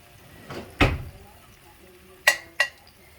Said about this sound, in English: we're going to take our biscuits out of the oven, set them right over there